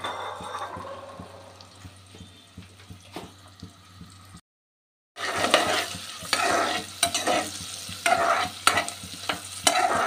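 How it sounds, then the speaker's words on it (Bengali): Chopped onions and slit green chilies frying in a pan, a steady sizzle with rhythmic stirring scrapes, briefly cutting out before returning louder and more crackly with repeated spoon strokes. "পেঁয়াজটা আমি একটু লাল করে ভাজবো, খুব না, একটু হালকা হালকা।"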